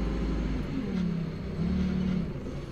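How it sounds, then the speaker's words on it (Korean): A forklift engine carrying a stone curb block drones steadily as it climbs a steep hill toward the summit of Haengju Fortress, with its check-engine light on. The close, loud rumble rises slightly in pitch midway with no speech. "지게차 더 천천히 가고 있죠?"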